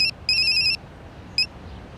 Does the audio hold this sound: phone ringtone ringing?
yes